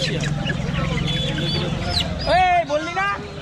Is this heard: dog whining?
no